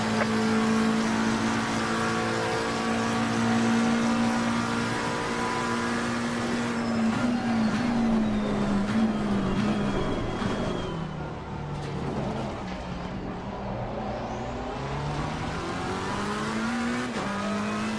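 Porsche 911 race car in Assetto Corsa Competizione, traction control turned down, its engine droning steadily and loud with pitch rising and falling through gear changes and corners, with faint tyre noise and no talk.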